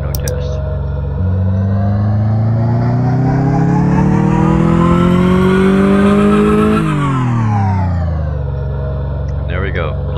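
Car engine on a dyno in Car Mechanic Simulator 2014, revving up steadily in a long rising pull, holding high, then dropping back to idle; loud and continuous throughout.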